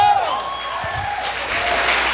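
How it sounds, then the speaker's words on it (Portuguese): A church congregation claps steadily, a broad wash of applause with a preacher's voice ringing over it at the start. "Vamos aplaudir ao Senhor."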